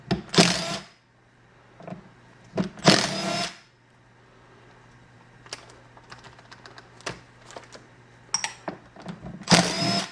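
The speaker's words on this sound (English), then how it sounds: "you can put it on an impact of any sort and just remove it really quick" An impact wrench with a 1/2 inch socket spins off tire bolts in loud, short bursts, three strong rattling runs separated by pauses, with lighter clicks and handling noises in between.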